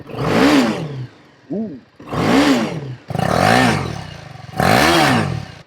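A brand-new BMW motorcycle engine is blipped through several quick revs, each rising snarl falling back to a lumpy idle between bursts. One is a short, lighter blip. Close and loud, with a brief exclamation.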